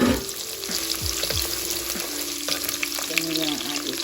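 A small onion frying in oil in a pan, a dense continuous close sizzle with a few light clinks and scrapes, no talking over it.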